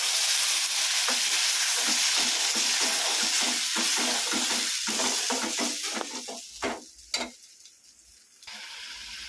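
Onion and tomato frying in oil, a loud hissing sizzle with stirring clatter that eases and turns patchy toward the end, with a couple of sharp knocks.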